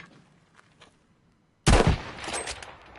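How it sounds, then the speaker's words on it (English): A single sniper rifle shot in Battlefield V cracks out sharply after a near-silent pause, followed by a short rumbling tail and echo that fades over the final second. "We're going to zoom in, and then we're going to shoot."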